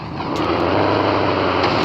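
A car engine in a car simulator video game revs at a high pitch as the car drifts, a steady buzzing whine that rises slightly and holds loud and close.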